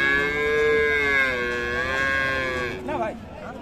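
A Friesian cow moos loudly and close at a busy cattle market, one long drawn-out low call with a rough, wavering tail, with market noise underneath.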